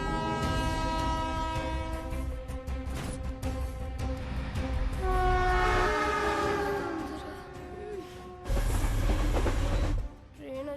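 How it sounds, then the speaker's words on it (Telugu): A train thunders past at close range, its loud horn blaring in long sustained blasts over the heavy rumble and clatter of the rolling cars, dropping off briefly before another burst of noise. "ట్రైన్ వచ్చేటప్పుడు కళ్ళు కాదురా, చెవులు మూసుకోవాలి."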